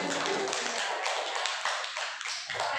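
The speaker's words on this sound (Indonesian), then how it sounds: "Berikan tepuk tangan." Teachers in a school meeting clap together for a colleague, a dense broadband patter of many hands that holds steady for about three seconds, with faint voices mixed underneath.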